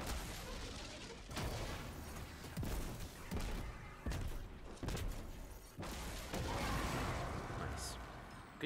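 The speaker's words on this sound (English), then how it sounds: "Good use of a rocket." Rocket blasts and gunfire in Destiny 2 land as a run of heavy booming impacts and crashes, several loud bursts in quick succession over the game's background noise.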